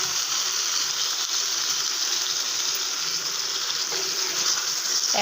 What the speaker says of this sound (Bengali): এখন সিদ্ধ হওয়ার জন্য পরিমাণ মতো পানিটা দিয়ে দেব